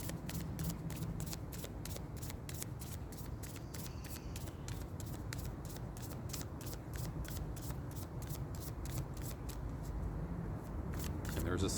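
Oracle cards are shuffled in a steady run of soft, rapid flicks and slides, close and fairly quiet, continuing for several seconds.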